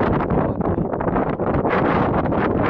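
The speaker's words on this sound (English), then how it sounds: "It's definitely windy." Loud, steady wind buffets a microphone outdoors near a bridge, a continuous roaring rumble with gusty surges and no speech.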